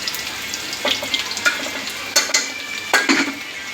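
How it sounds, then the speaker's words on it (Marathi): Onions frying in hot oil in a pan are stirred with a spoon, bringing sharp scrapes and clinks against the metal over a steady close sizzle, with no talking. "तोपर्यंत आपण इथे कांद्याला जरा हलवूया."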